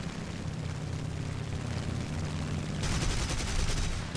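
Rapid bursts of aircraft machine gun fire from I-16 and He 112 fighters in War Thunder rattle over a steady engine drone, with the firing growing denser and brighter toward the end.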